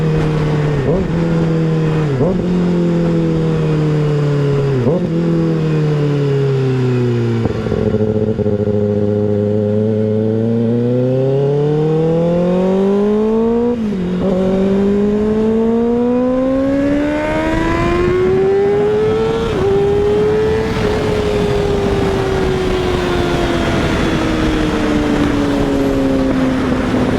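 Kawasaki ZX6R sport bike revving hard, close and loud, with repeated sharp climbs to high RPM, gear shifts and long rising and falling wails as the engine is wrung out.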